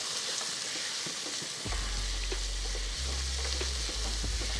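Jalapeños and mixed vegetables sizzle steadily in a hot skillet while cooking chicken fried rice, a constant crackling hiss with a low rumbling hum appearing partway through.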